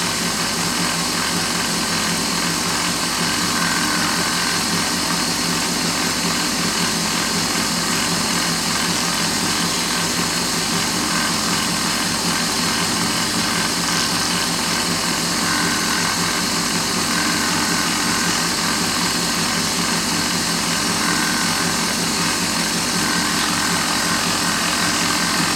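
Steady, continuous sanding of a finish with 1200 grit wet and dry paper, a constant even hiss and rasp that runs without pause and without talk.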